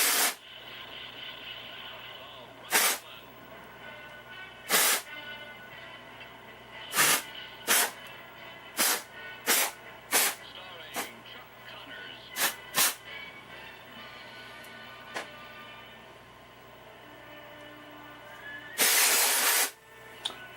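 Short bursts of freeze spray hiss from an aerosol can onto the chassis of an RCA 630TS television set, about a dozen sharp spurts at irregular intervals, ending in one longer blast, over a faint steady hum.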